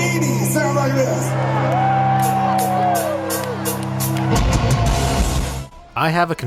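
A record plays loud and dense, with shouted, yelling vocals over driving band music, then cuts off abruptly and a speaking voice follows at the end.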